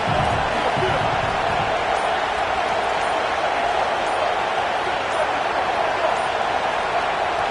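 Steady roar of a packed stadium crowd at a college football video game, loud and continuous throughout with no break, a broad wash of cheering noise with no distinct talk.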